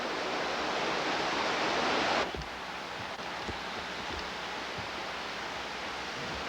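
A creek flows beside a rock wall near a cabin, giving a steady broadband rush of water that drops to a softer, more distant murmur partway through, with faint knocks or rustles.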